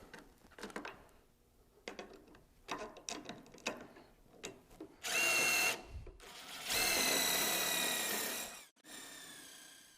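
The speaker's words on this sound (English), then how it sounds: "And then they would go in your driver." A power driver drives beam-to-post fasteners while perimeter box beams are installed on a pergola. Light clicks and handling come first, then two loud, sustained bursts of whirring.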